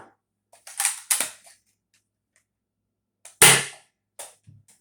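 Adventure Force Deuce Pro foam dart blaster fires one sharp, close shot with a quick snap and brief tail, set between a few smaller mechanical clicks and handling noises.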